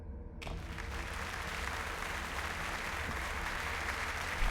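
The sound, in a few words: applause in the video game The Last Door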